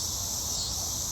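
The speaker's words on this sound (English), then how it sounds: "Okay, the cicadas are present." Cicadas buzz in a steady, high, continuous drone that holds at an even level throughout, with no voices or other sounds over it.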